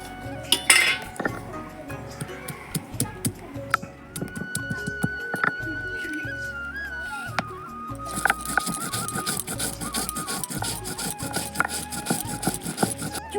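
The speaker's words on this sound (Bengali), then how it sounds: "এবার আমি আদা আর জিরেটা বেটে নেব একসঙ্গে।" Ginger and cumin are ground together on a grinding stone, making rhythmic rubbing, scraping strokes punctuated by sharp clinks and knocks, close and fairly loud throughout.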